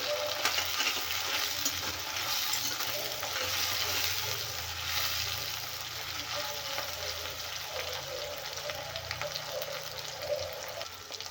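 Finely chopped large tomato frying in a pan, giving a steady, fairly quiet sizzle and hiss that runs throughout with no one speaking.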